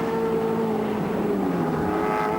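A 1986 Bathurst 1000 touring car pulls away after a pit stop and accelerates up the hill towards BP Cutting, its engine note loud, steady and climbing throughout, with a continuous harmonic drone and no voices over it.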